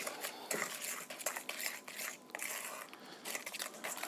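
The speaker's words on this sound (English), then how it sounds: "we're just going to stir to combine that" Sweet broccoli salad with sugar stirred in a bowl, a close run of crunchy scraping and clattering as a utensil turns the chopped broccoli, with short pauses between strokes.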